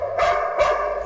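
A dog gives two sharp barks roughly half a second apart, loud and close, over a steady background hum.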